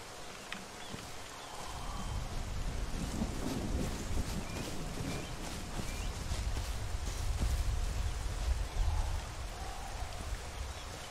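Steady heavy rain pours in The Isle video game while thunder rumbles low and continuous underneath, loud and unbroken throughout with no voices.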